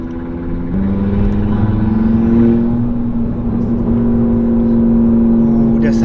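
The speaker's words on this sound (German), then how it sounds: "Der Sound, der 5-Zylinder" An Audi TT RS five-cylinder engine holds a steady, loud revving drone nearby, its pitch rising slightly before settling.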